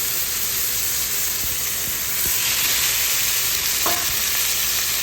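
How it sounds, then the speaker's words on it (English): Steak sizzles loudly in a hot cast iron skillet, a dense crackling hiss that stays steady throughout, with a faint scrape or tap near the end. "you should hear a very nice sizzle"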